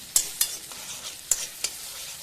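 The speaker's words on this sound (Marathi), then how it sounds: "आता तीसुद्धा मी चांगली तेलामध्ये भाजून घेणार" Fresh tomato puree frying in hot oil while being stirred in a pan, a continuous sizzle broken by several sharp spoon scrapes and clicks at irregular intervals, close and fairly loud with no talking.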